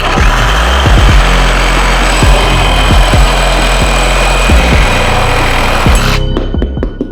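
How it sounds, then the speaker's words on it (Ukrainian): A cordless reciprocating saw fitted with a metal blade, pendulum action off, cuts through square metal tube with a loud, steady buzzing rasp and rhythmic stroke pulses before stopping abruptly near the end. "Встановили полотно по металу. Обов'язково вимикаємо маятниковий хід і починаємо різати."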